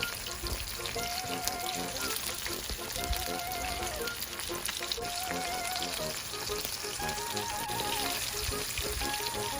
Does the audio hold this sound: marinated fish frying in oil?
yes